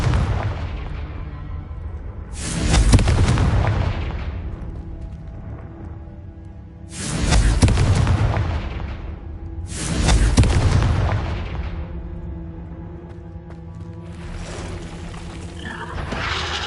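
Confringo fire spell blasts in Hogwarts Legacy, three loud booming bursts spaced a few seconds apart, each a sharp crackling explosion that rolls off into a low rumble over a continuous background drone.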